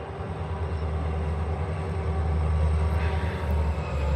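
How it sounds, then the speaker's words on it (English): Freight train with two locomotives coming down a grade, a steady low engine rumble and drone that swells slightly as it nears, heard alone at moderate distance. "By the sounds of things, that's only 2 engines. No, there's a train behind him."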